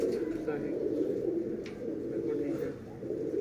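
Soft cooing of a strong homing pigeon, low and repeated, heard close under a voice talking throughout.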